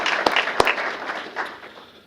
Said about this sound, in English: So I have a round of applause for Christopher Grantham.